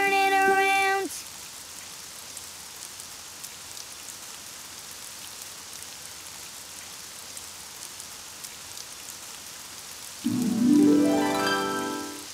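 Steady rain falls outside in a cartoon, a broad soft hiss running the whole length, with brief bursts of music at the start and again near the end.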